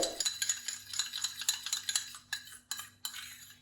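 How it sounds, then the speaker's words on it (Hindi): A spoon clinks and scrapes against a small bowl while stirring an onion remedy mixture, in quick irregular taps close by, with no voice. "बस इतना सा हम और अच्छी तरह इसको मिक्स कर लेंगे।"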